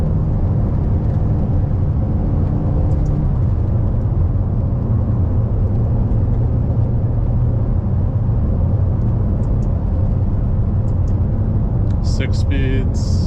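A Mazda RX-7 being driven, its engine a steady low rumble with broad road and cabin noise throughout and no clear revving.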